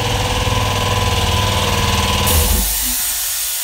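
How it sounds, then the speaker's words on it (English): A Harbor Freight air compressor runs with a loud, steady motor drone and rattling hum in a garage during a Ford 9-inch differential teardown, then winds down and cuts off near the end. "That would be my Harbor Freight compressor."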